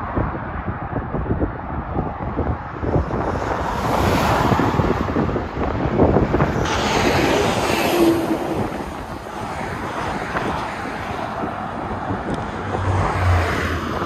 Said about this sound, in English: I got the wind against me